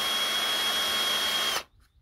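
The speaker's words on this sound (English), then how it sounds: "drill all back together, battery in, time for the test" A Makita Maktec cordless drill, just repaired at the switch, whirs loudly and steadily for about a second and a half before stopping abruptly into silence.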